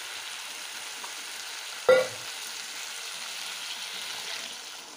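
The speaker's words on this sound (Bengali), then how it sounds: "এখন জল দিয়ে দিলাম।" Water poured into a frying pan of mustard paste and spices sets off a sudden loud splash and burst of sizzling, which settles quickly into a quieter steady simmering hiss, with no talking.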